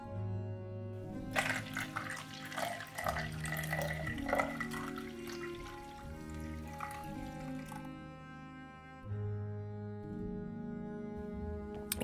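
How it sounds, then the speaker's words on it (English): Warm water is poured into a mixture of light malt extract and dextrose for a cordyceps liquid culture. The splashing stream starts after a second and runs fairly steadily, then eases off and resumes near the end. "then add 1 liter of warm water."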